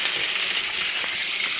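Food sautéing in a pan during Filipino home cooking alongside pork adobo, with a steady, bright hiss of sizzling oil throughout and no voices.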